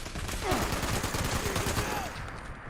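Gatling plasma fire from Fallout 76 pours out in a dense, continuous stream of rapid bursts at steady loudness, with a voice talking underneath part of it.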